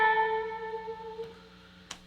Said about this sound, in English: much more reverb on that.